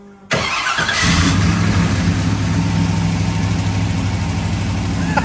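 An old car with a fuel-starved carburetor cranks over and catches into a rough, steady idle, loud and close, the engine droning on without stopping.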